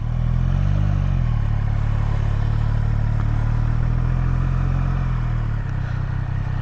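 A 2023 Triumph Street Triple RS motorcycle accelerates at full throttle, the engine note loud and close, rising in pitch through the gears with a brief dip as it shifts, and wind noise running throughout.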